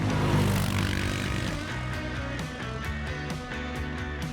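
A CFMoto Cforce 400 ATV cruises along a forest road at about 45 km/h, its engine a steady, close, rumbling drone with a faint rhythmic pulsing and no one talking.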